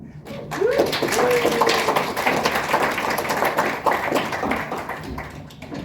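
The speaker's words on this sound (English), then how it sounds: "Round of applause for the lovely crew that I have with me" A crowd at a convention closing ceremony claps steadily in a dense patter of applause, with a brief whistle-like cry near the start.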